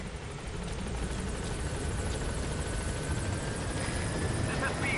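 A support helicopter arriving at a landing zone in Metal Gear Solid 5, its steady rotor and engine roar loud and continuous throughout, with voices talking over it.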